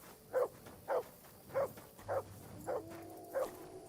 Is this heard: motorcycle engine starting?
no